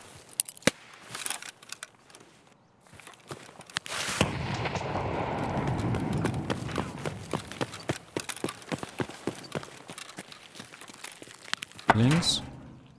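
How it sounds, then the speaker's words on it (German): A grenade goes off in a firefight in Escape from Tarkov, a loud sustained blast and rumble after scattered single gunshots, with voices talking over the action. "Granate."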